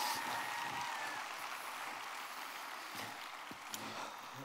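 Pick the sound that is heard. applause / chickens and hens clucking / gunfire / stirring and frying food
applause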